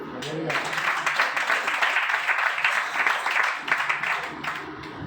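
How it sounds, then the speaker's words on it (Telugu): Audience applause at a spoken gathering, a sustained crowd clapping at moderate distance for several seconds, fairly even and dense throughout. "క్లాప్స్ కొట్టండి."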